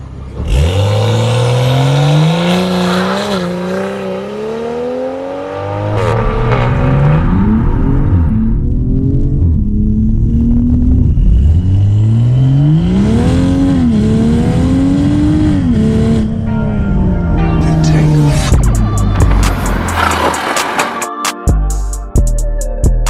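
A Stage 2 BMW M340i xDrive with a modified downpipe launches hard, its engine note climbing through several loud gear pulls with brief dips between shifts, ending in crackling pops and burbles as it lifts off.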